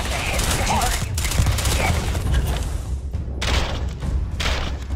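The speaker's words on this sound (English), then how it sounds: "now we can go back to shooting things" Gunfire in Starfield during a space combat fight: dense, loud volleys of shots with thudding impacts, broken by brief pauses, continuing throughout.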